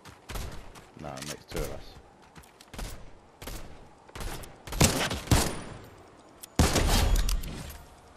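Video game gunfire comes in loud, irregular bursts of sharp shots spread across the moments, mixed with game noise and people talking in between.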